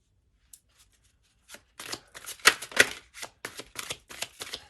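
Tarot cards riffle and snap in a close, quick run of crisp shuffling bursts that start after a short quiet pause, with no talking.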